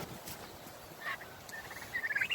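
Turkeys kept outdoors in wet conditions make soft, faint gobbling and high warbling calls, a few brief bursts that grow into a rapid trembling gobble at the end, over quiet background noise.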